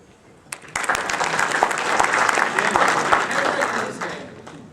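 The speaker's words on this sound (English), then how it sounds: "And a warm round of applause also for all of the persons who are distinguished" An audience at a numismatic gathering breaks into applause that starts abruptly, swells into a full, lively ovation of many clapping hands, then begins to taper.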